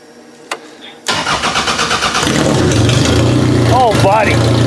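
An old Toyota wagon's engine is cranked over with rhythmic starter pulses, catches and settles into a loud, close idle with a couple of quick revs at the end.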